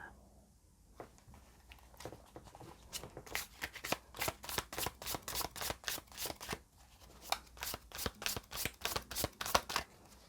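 Tarot cards are shuffled and dealt out in a quiet room: a long run of crisp, rapid riffling slaps, about two per second, pauses briefly and then continues, close and fairly soft with no voices.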